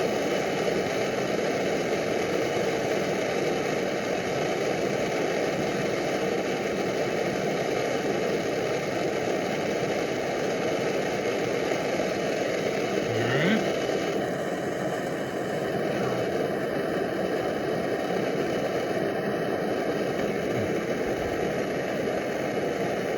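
A Primus Omnifuel camping stove burns with a steady, continuous roar and hiss at moderate loudness, unchanging for the whole stretch, with no talking.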